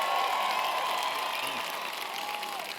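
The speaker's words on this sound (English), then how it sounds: "I was going to say let's give them a round of applause, but they did that automatically." A large audience at an SXSL discussion with President Obama applauds, a continuous broad roar of clapping and crowd noise that stays steady and slightly eases toward the end.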